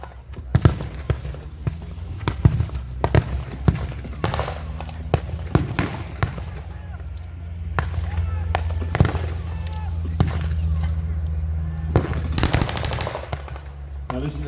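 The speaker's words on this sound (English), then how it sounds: "listen to the cyclic rate of that MG42" An MG42 machine gun rattles off rapid bursts at a WW2 battle reenactment, loud and close, with sharp separate shots and a sustained low rumble, voices talking between the volleys.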